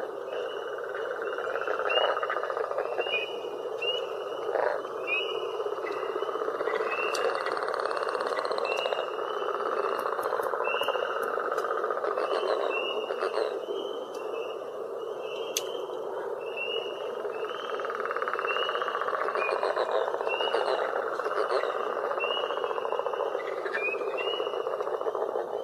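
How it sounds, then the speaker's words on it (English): A chorus of northern leopard frogs keeps up rapid, rattling snore-like calls over about twenty-five seconds, with other faint calls mixed into the background. "we'll listen to a group of northern leopard frogs"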